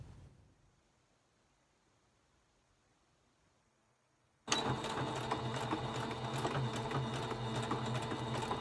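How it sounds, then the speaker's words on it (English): A sewing machine stitches fabric for a face mask, starting abruptly after a quiet stretch and running loud and steady with a fast, even mechanical whir and rapid needle clatter. "we move on to the sewing machine"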